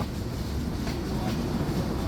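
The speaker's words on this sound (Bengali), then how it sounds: "এখন আমরা প্রবেশ করব টাঙ্গাইল রেলওয়ে স্টেশনে" The Silkcity Express rolls into Tangail railway station, a steady low rumble of carriages heard from on board, with faint rhythmic rattling and no clear speech.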